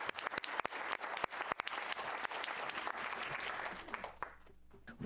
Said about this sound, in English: Let's give Noah a round of applause